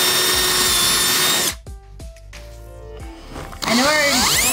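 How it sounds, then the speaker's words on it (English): A power drill whirs loudly drilling holes in a school bus floor, stops, then gives several short stuttering spins before winding up again at full speed. "Look, we're drilling holes in the floor."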